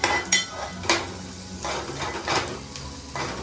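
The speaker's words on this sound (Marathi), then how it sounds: "ढवळून घेऊ पहिला कांदा लसूण सगळं शिजवून घे" Onion and garlic cook in a pan while a utensil stirs them, producing several close scraping and clattering strokes over a soft sizzle, with no talking.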